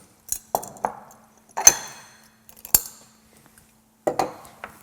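A lid is set over a pan of shakshuka with tomatoes and eggs, giving a few sharp metallic clinks and clatters spaced across the clip, close and isolated against near silence.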